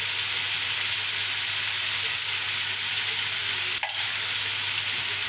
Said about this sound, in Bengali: এখন ভালো করে মিক্স করে নেব মশলাগুলো আলুর সাথে। ভালো মতো নাড়তে হবে।